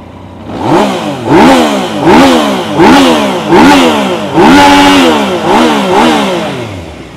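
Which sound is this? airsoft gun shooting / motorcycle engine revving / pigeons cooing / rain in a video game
motorcycle engine revving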